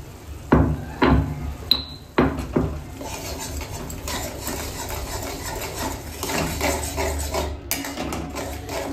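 A spoon scraping and knocking in a pan while ginger garlic paste is stirred with spring onion for a Bengali prawn dish. Several sharp clacks come near the start, then softer intermittent rubbing and sizzle-like scraping continue.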